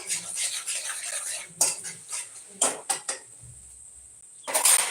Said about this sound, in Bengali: মশলাটা আমি কষিয়ে নিচ্ছি অল্প করে